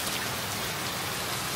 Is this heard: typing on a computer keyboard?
no